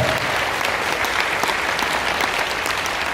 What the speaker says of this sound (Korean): 이거 박수 쳐야 되는 거 아닙니까?